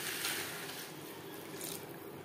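Water poured into a pan of peas, potatoes and spices while cooking vegetarian ghugni, a steady close splashing pour that runs throughout at moderate volume.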